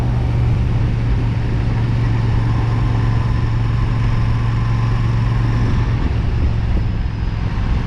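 A Royal Enfield Super Meteor 650 twin-cylinder motorcycle with 425 miles on it hums steadily while riding, a loud, continuous low engine drone mixed with wind noise and no talk.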